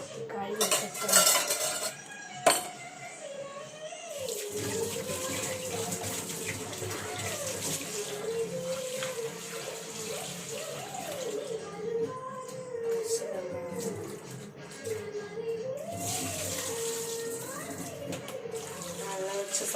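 Onions and a knife washed under a running kitchen tap, with steady flowing water, clinks of metal and dishes in the sink, and a person talking over the water throughout.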